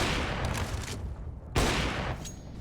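Gunfire in a competitive shooter match as a player tries a wall bang: a dense, loud barrage of rapid shots fills the clip, with a sharp burst of fresh fire about halfway through.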